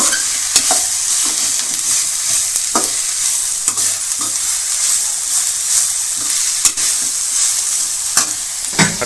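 Crushed ginger and garlic sautéing in a pan for poori kizhangu, a loud continuous sizzle punctuated by repeated sharp scrapes and clacks of a spoon stirring, with no talking.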